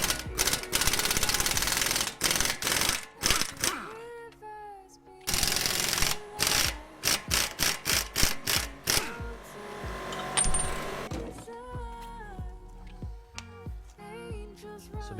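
A 24mm ratchet wrench loosens the lower shock assembly bolts on a 2006-2014 first-generation Honda Ridgeline. Loud, close bursts of rapid clicking start and stop repeatedly.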